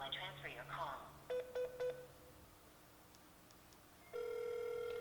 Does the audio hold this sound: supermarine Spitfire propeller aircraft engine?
no